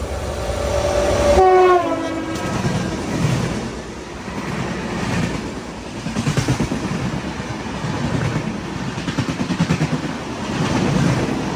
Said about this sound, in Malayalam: ഒരു ട്രെയിൻ വരുന്നുണ്ട്